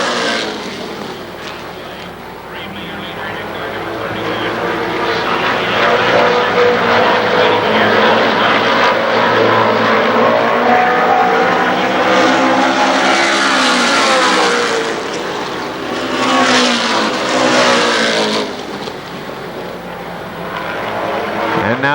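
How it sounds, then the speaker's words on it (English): Race cars roaring around Winchester Speedway at a season opener, a loud, sustained engine drone that swells as the pack passes close, fades slightly, then surges again. "It's Brian Reevely, Kenny Tweedy, your top 2 cars"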